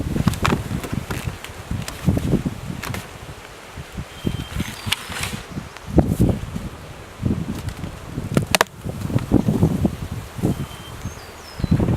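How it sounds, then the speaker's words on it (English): Bees from a full, captured beehive buzz steadily and close, with individual insects droning past and flying in and out over a soft outdoor background. "This is the hive that I captured. This is absolutely full of bees."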